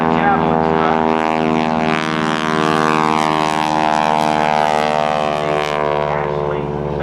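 A biplane with a 450 horsepower engine performing at a naval air station airshow, its propeller engine droning loud and steady with a strong harmonic hum and no pause, while an announcer talks over it.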